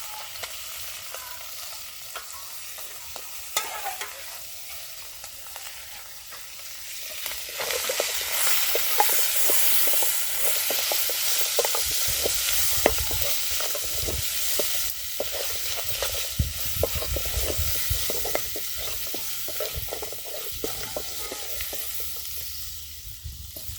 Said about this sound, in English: I've already put meat inside, so at least I have to make sure this meat turns brown